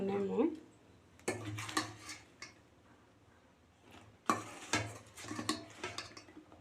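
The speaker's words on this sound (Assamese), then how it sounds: "এতিয়া মই এইখিনি কৰেচেৰে অকণ অকণকৈ এই বৈয়ামত ভৰাই ল'ম।" A spoon clinks and scrapes as red chili pickle is scooped little by little into a plastic jar, with irregular taps and clatters while a voice talks over it.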